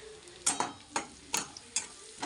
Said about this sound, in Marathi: मी मोहरी टाकणार आहे कांदा नाही टाकणार